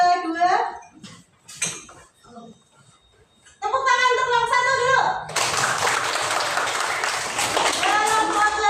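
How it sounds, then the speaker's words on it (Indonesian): Classroom applause breaks out for the first student group, a burst of dense clapping that follows teacher speech and continues under children's voices. "Tepuk tangan untuk kelompok 1 dulu."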